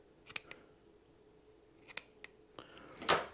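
Small scissors snip thread while a crappie jig is being tied: a few light, close clicks and snips spread over a few seconds, ending in one sharper, louder cut.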